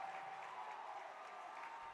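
Faint, steady applause from gymnastics teammates after a routine at an Arizona versus Southern Utah meet, an even wash of clapping heard from a distance with no talk over it.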